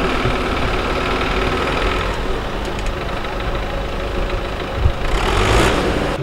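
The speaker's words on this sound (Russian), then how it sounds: "Прямо работает трактор." A tractor works beside apartment houses in Karaganda, its steady mid-pitched engine rumble running continuously and fairly loud, with a brief thump and rising revs near the end.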